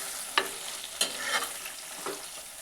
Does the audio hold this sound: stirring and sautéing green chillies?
yes